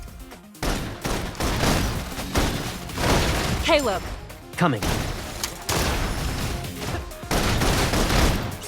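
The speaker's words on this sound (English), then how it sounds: "Requesting full suppression gunfire." Suppression gunfire in a sci-fi video game battle: dense bursts of shots and booms rattle continuously, loud and close, with brief spoken lines over the firing.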